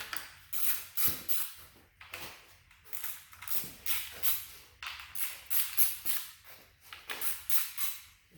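A ratchet wrench loosens 10 mm valve cover bolts on a Honda K20 engine, repeated quick clicking strokes in a steady back-and-forth rhythm, close and moderately loud with short pauses between bursts.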